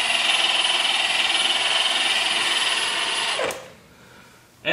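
A Milwaukee M18 FUEL 7-inch variable speed cordless polisher runs at a loud, steady whirring hum, then winds down abruptly and leaves near-silence before a brief burst of noise at the very end.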